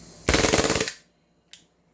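Airsoft gun firing in a rapid full-auto burst of about a dozen sharp close shots, followed after a pause by a single brief pop, loud and without talking.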